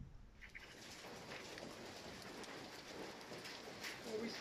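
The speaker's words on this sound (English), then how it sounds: "Rain. I didn't expect hail." Steady rain mixed with hail pours down with a dense hiss, with scattered sharper patters of hailstones striking a surface throughout.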